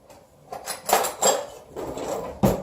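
Metal kitchen utensils clatter and clink as a spoon is picked out from among them, several sharp jangling knocks in quick irregular succession, close and fairly loud.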